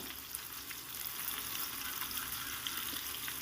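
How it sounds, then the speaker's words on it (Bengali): Diced potatoes fry in hot oil for a vegetarian cauliflower and potato curry, a steady dense sizzle with a soft crackle throughout, close and even, with no talking. "এবার ওই তেলের মধ্যেই ডুমো ডুমো করে কাটা আলুগুলোকে ভেজে নেব"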